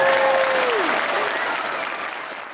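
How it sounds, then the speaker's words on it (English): An audience claps together, loud at first then gradually thinning and fading; a brief tonal whistle or cheer sweeps down early under the applause. "give them another round of applause"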